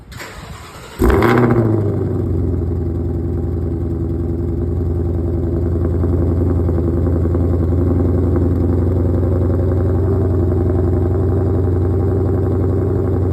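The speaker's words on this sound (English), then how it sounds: "I'll show a clip of the GT500 cold start." A Ford Mustang Shelby GT500 cold starts with a sharp crank and a loud burst of revs about a second in, then settles into a steady, rumbling high idle that continues close and alone to the end.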